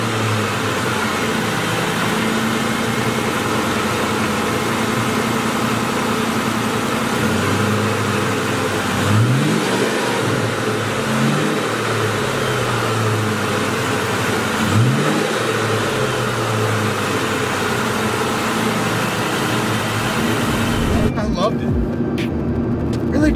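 A 1999 Ford Mustang Cobra SVT with a five-speed manual transmission drones steadily while driving, its engine rising in a few short rev sweeps over constant road noise.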